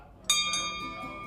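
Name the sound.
bell being rung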